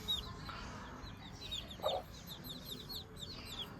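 Small chicken chicks give repeated high, thin peeping calls in bursts over a steady background, joined by a single louder clucking call partway through.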